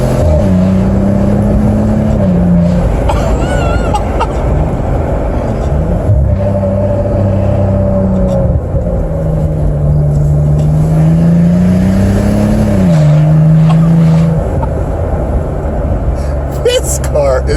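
Engine of a 2015 Maserati Ghibli SQ4 rated at 404 horsepower, a loud close rumbling drone with pitch rising and falling as it revs, someone talking over it throughout.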